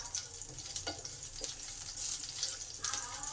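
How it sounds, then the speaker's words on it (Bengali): Half a spoon of panch phoron spices sizzle in hot oil for Bengali kochu shaak ghonto, a steady close crackle with brief stirring scrapes, no voices. "আমি হাফ চামচ পাঁচফোড়ন তেলে দিলাম। তেলটাকে ভালো করে গরম করে নেব।"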